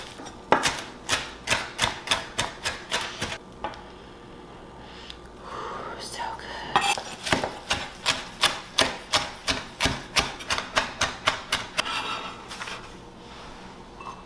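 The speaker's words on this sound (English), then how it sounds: "So let's get chopping." A knife chopping fresh basil on a cutting board, rapid rhythmic taps in two quick bursts separated by a brief pause, close and crisp with no talk.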